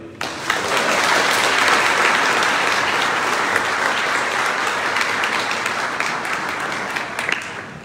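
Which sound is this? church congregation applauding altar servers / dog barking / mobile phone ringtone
church congregation applauding altar servers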